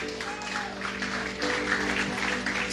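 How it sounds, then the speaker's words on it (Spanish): Church congregation applauding during a Spanish-language Sunday service, a steady spread of clapping under a sustained organ or keyboard drone, swelling slightly louder partway through. "Denle un aplauso al Señor,"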